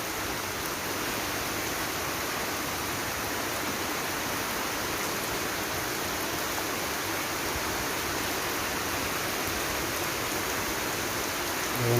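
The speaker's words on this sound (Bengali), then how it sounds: "প্রচুর বৃষ্টি হইতেছে।" Heavy rain pours down in Bangladesh, a dense, steady hiss of falling water that stays constant and fairly loud throughout, with no voices.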